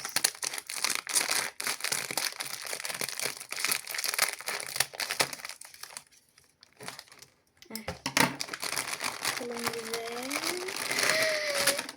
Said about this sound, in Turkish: Böyle açmak için makasımız var.